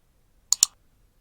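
A computer mouse gives a double click: two sharp, close clicks in quick succession against near silence.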